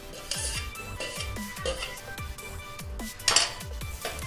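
Dry rice poured into a metal pot for butter lemon rice, a series of short clinks and rattles against the pot with soft scraping, close and fairly quiet, no talk.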